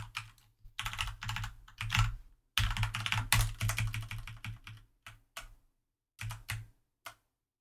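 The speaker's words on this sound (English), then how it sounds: "Typing and talking at the same time." Rapid keyboard typing in uneven bursts with short pauses between them, close and clear, with no voices.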